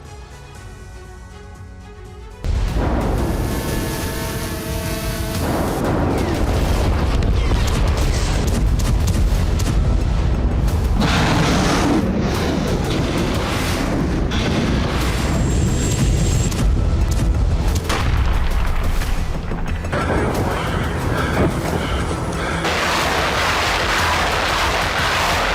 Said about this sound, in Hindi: क्या इन्हीं मिसाइलों से यूक्रेन रूसी धरती को दहला रहा है?